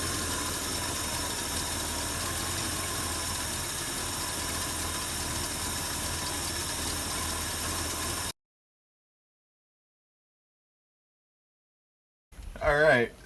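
A small engine idles roughly for about eight seconds with a steady close drone, then cuts to silence before a brief burst of another sound at the end.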